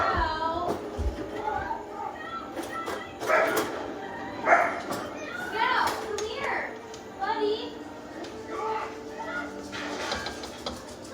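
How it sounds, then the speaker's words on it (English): Someone talks in a busy room while a dog barks and yips intermittently in the background, fainter than the voices. "That's the dog."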